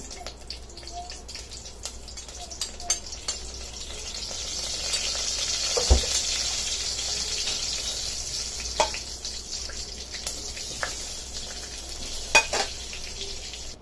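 Cumin seeds sizzling in a spoonful of hot ghee in a home kitchen, a soft continuous crackle with a few sharp pops and stirring clinks scattered across it, close and moderately quiet.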